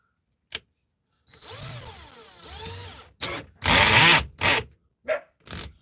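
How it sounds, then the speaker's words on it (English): Power drill in a guitar workshop whirring in a steady, rising and falling spin for a couple of seconds, then several loud, short bursts of drilling with brief pauses between them, close by. "I definitely just had a thing I needed to stick in my drill."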